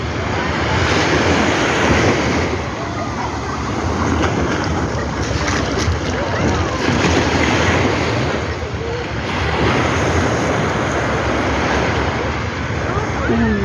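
Loud, steady surf breaking on a beach in Bataan, with continuous wash and rumble swelling and easing, buffeted by wind noise on the microphone.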